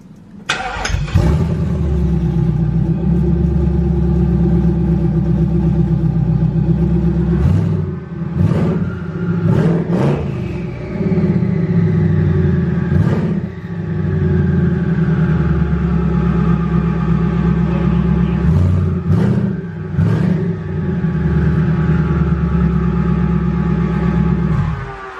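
Twin turbo Ford Mustang of over 1,000 horsepower, fitted with exhaust turndowns, starts and settles into a loud, steady, deep rumbling idle, punctuated by several sharp throttle blips and a fading turbo whine, close by with no talk.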